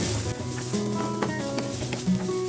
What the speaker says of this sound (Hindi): इसमें साथ ही हम डाल देंगे 1 चॉप की हुई प्याज बड़ी वाली। तो हल्का सा फ्राई करेंगे।